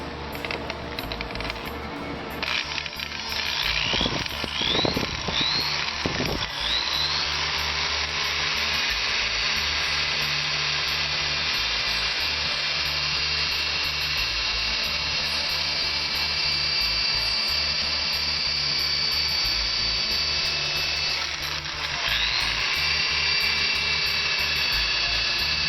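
A buffing wheel polishes graphics on an XR600R motorcycle fuel tank, giving a steady, loud high-pitched whine with a constant motor drone underneath and brief contact scrapes near the start.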